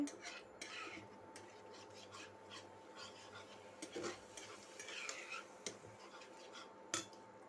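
Cashew paste being stirred in a cooking pan with a spoon, giving steady soft scraping and rubbing strokes with occasional utensil taps, faint and close, with no talk.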